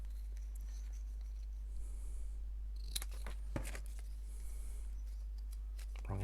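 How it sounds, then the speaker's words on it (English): Paper being cut with a pair of scissors produces quiet, close snips and crisp rustles, a couple of sharper cuts mid-way over a low steady hum, with no talking. "I'm just going to cut them with a pair of scissors."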